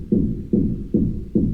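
Synth bass patch with a saw waveform playing four evenly spaced low pulsing notes, each with a soft swelling attack, in a steady repeating rhythm.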